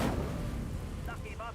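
The Incendio fire spell is cast in Hogwarts Legacy, a booming burst of fiery rumble that rolls on loudly and fills the short moment, with a speaking voice briefly underneath.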